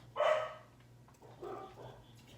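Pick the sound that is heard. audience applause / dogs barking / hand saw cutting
dogs barking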